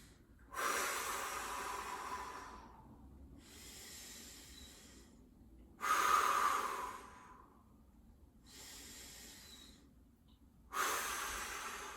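Deep, slow breaths taken close up while holding a forearm plank, each long airy inhale and exhale swelling and fading in turn, with quiet pauses between and no talking.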